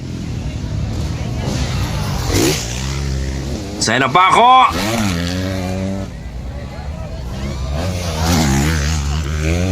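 Small 85cc racing motorcycles rev hard and whine past, with engine pitch sweeping up and down through gear changes, over crowd babble and an excited commentator.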